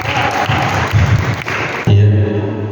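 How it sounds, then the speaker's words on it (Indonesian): Applause from people gathered at a village carnival planning meeting in Grinting, held for the Indonesian Independence Day celebration, rising as a dense burst of clapping with some voices mixed in. "Luar biasa, tepuk tangan buat saudara."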